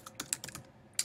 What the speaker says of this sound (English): you can just start typing a word and it'll give you suggestions